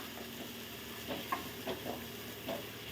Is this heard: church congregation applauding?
no